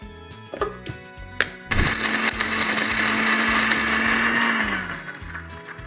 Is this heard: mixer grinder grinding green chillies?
yes